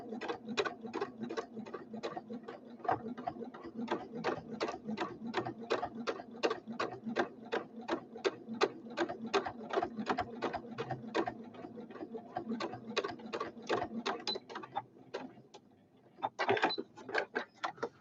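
Sewing machine stitching a small pin cushion, a steady run of quick rhythmic mechanical ticks at close range, fairly quiet, with a short pause near the end and no talking.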